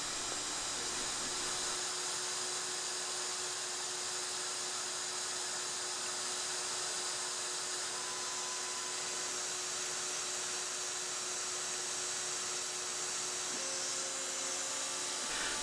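A CNC router with a 1mm bit mills Sintra plastic in a steady, loud, high hiss and whine that runs unbroken throughout, with a slight pitch change near the end and no talking.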